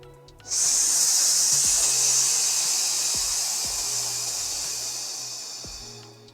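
A single long, forceful hissing exhale starts abruptly and holds steady for several seconds, slowly fading toward the end.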